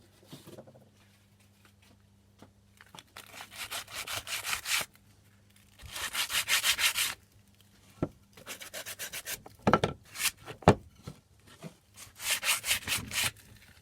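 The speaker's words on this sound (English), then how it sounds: "Next, you just need to wait for it to dry and then sand it." Hand sanding dried homemade wood filler on a wooden surface, close and clear, in rhythmic bursts of rough back-and-forth rubbing separated by short pauses and a few taps.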